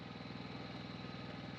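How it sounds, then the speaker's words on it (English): Portable generator running at a dispersed truck campsite in New River Gorge, West Virginia, a steady low throbbing engine drone with even rhythmic pulsing, continuous and moderately loud with no talk. "If you hear our generator running"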